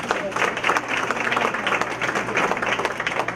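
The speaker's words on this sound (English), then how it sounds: "Let's give her a great big round of applause." Audience applause at a county school board of education meeting, steady clapping from a room full of people sustained for several seconds at moderate loudness.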